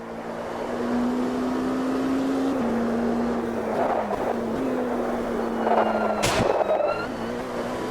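An LMP2 prototype race car engine in a racing sim drones steadily at high revs, with a brief downshift blip and a sharp transient near the end, running continuously with no talk.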